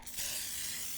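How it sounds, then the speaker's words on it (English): A can of olive oil cooking spray releases a short, steady hissing burst onto a practice mold, close and fairly faint, lasting about a second. "use the olive oil spray or the cooking oil spray"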